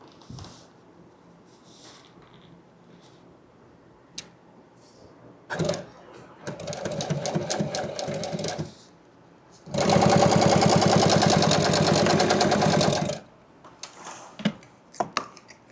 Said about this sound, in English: what I'm going to do is sew these two together